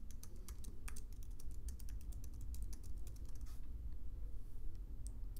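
Rapid keystrokes on a computer keyboard as an email address is entered, a dense run of close clicks that thins out and stops midway, leaving quiet room tone with one last tap.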